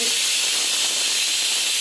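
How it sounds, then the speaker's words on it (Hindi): Steam hisses steadily from a pot of rajma dal boiling on the stove, a loud, unbroken high-pitched rush with no other sounds. "राजमा बालड़ियाँ बोलते हैं जिसको, वो वाली दाल डाली है उबलने"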